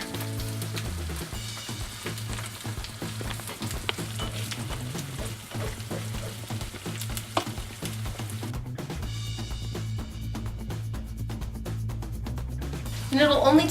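An egg fries in a pan with a quiet, steady sizzle running underneath a person talking, alongside occasional small clicks and a low background hum.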